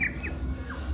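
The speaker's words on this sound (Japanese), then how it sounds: "これケアって言うんですけど、こっちの人キアって呼ぶんだよね。" A kea parrot calls outdoors in Wellington, New Zealand, giving a few short, high squawks that slide downward, moderately loud over a steady low background rumble.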